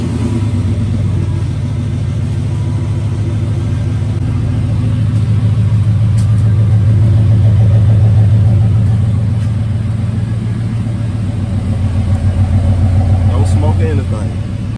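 Car engine fitted with a Flowmaster exhaust running close to the recorder, a loud, steady low rumble that swells slightly mid-way; someone talks over it at times.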